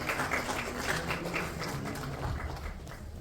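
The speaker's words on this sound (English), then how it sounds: "Please give a huge round of applause" Applause from the audience at an awards ceremony: dense, sustained clapping that fills the hall at a steady level for the whole stretch, with no voices over it.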